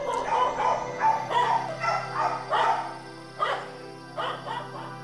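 A dog barks repeatedly in short bursts, a series of loud yaps with brief pauses, fairly close with a faint hum underneath.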